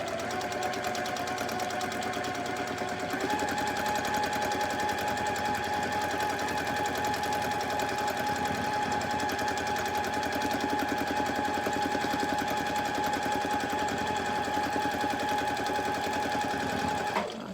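Rapid, continuous mechanical chatter from a sewing machine stitching during free motion quilting of a tumbling block pattern, running close and steady for the full length with only a brief pause near the start.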